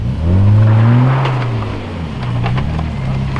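BMW E36 engine revving as the car is driven, loud and close, with a strong low drone that swells and eases across the clip under some wind noise.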